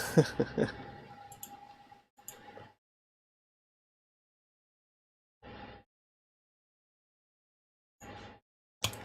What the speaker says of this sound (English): so I don't have to keep clicking.